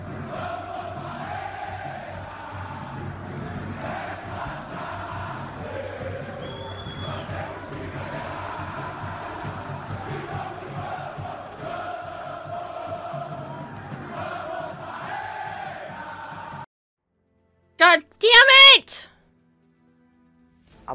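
Distant Brazilian football crowd chanting as a sustained, muffled roar of many voices, holding steady before cutting to near silence, followed by a few brief loud bursts near the end.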